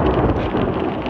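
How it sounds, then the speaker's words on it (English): Heavy rain and thunder in a Wind River mountain storm, a dense loud roar of downpour with low rumble filling the whole moment, no voices. "Raining hard."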